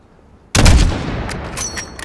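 After a moment of quiet, a loud, booming gunshot rings out close by in Call of Duty: Modern Warfare, followed by rumbling echoes and a few sharp mechanical clicks.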